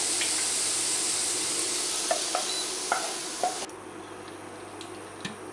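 Onion cooking in a pan with a steady close sizzle, broken by a few soft stirring taps before the frying noise drops to a quieter hiss.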